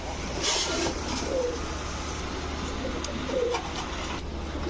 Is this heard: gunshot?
no